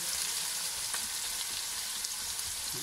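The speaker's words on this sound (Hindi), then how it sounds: "ये हमारे पास प्याज था, ये मैंने इसमें डाल दिए 2। इसको हम इसमें भून लेंगे 1 से 2 मिनट।" Onions fry in oil with cumin seeds for aloo matar pulao, giving a steady, close hiss of sizzling with no talking.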